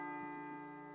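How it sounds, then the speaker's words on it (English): A bell rings in the video game Persona 3 Portable, a low sustained tone with steady overtones that holds faintly in the background for the whole moment. "It sounds like a bell, but where's it coming from?"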